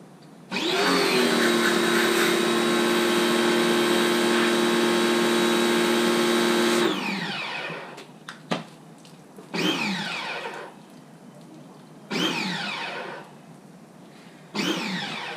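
A cheap electric pressure washer whines loudly and steadily for several seconds as it sprays a car's cold air pod filter, then stops, and a few shorter bursts of spray follow with pauses between them.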